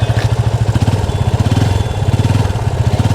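Close-up idle of a Yamaha FZ25's exhaust: a loud, steady low-pitched chugging with slight unevenness in the firing pulses and faint clatter, no voices over it.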